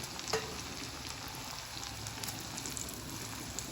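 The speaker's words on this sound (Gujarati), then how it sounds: "આ રીતે હું ફટાફટ બધા તળી લઈશ" Homemade kurkure made from leftover poha deep-fry in hot oil, a dense, steady sizzle and crackle filling the whole stretch at moderate level with no talking.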